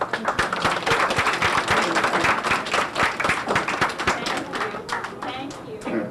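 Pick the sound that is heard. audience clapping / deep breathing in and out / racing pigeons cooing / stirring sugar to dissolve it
audience clapping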